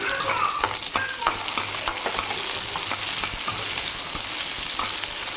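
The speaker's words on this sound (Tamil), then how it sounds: "அதையும் போட்டு வதக்கிக்கலாம்." Large pieces of cut bell pepper sautéed in a hot pan, with a steady oily sizzle and repeated scraping clicks of a spatula stirring the vegetables.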